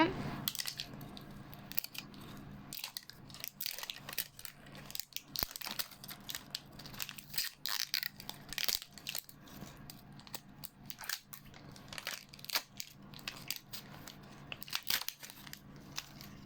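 Plastic wrapping of a LOL Surprise toy crinkles and crunches steadily while it is torn open and unwrapped, a busy close rustle with sharp crackles throughout.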